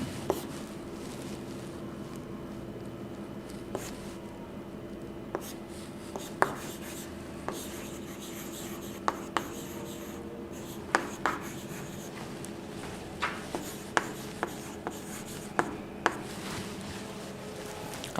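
A pen writes steadily on paper for a long stretch, a continuous faint scratching with light taps and clicks scattered through it, close up and alone with no talking.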